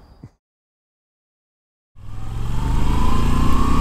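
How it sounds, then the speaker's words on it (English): A 2021 Moto Guzzi V7 850 motorcycle engine pulls hard under acceleration, rising loud and close after a brief silent cut, the drone climbing steadily in pitch. "you can feel that motor pull right there"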